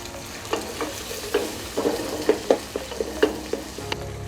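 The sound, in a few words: whole spices and chopped onions frying in oil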